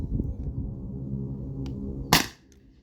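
A Beeman BP50 CO2 air pistol fires a single sharp, loud crack over a steady low background hum, followed by quiet.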